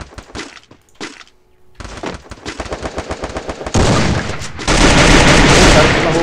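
Rapid bursts of video game gunfire in Free Fire, starting with scattered shots and building into loud, sustained automatic fire that fills the second half.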